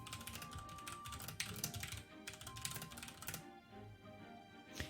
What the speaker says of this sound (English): I'm typing this down so I don't forget.